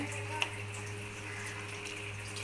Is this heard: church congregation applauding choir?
no